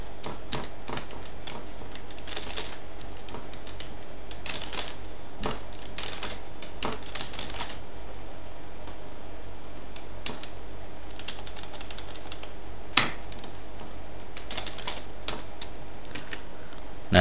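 Keys tapped on a computer keyboard while entering sample data into a Microsoft Excel spreadsheet, a steady run of light clicks with brief pauses and one sharper tap, close and alone over faint background hiss.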